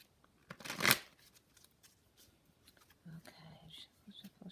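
A short, loud riffle of cards being shuffled near the start, followed by quiet, soft-spoken talk.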